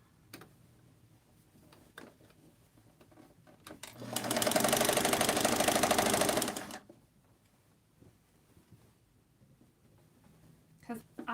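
A sewing machine in a studio runs in one steady, fast-stitching burst of about three seconds, framed by faint ticks and small handling noises before and after.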